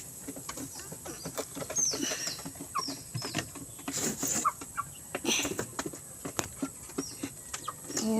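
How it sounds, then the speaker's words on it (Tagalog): Forty-five-day-old farm chickens cluck and chirp intermittently nearby, with scattered soft calls and occasional wing flaps over a quiet outdoor background. "Yan po yung chicken namin guys."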